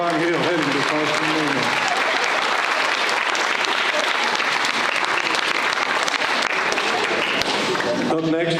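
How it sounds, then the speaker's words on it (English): Audience applause at a high school National Signing Day ceremony, sustained dense clapping with voices and crowd noise mixed in, holding strong throughout. "Ladies and gentlemen, round of applause."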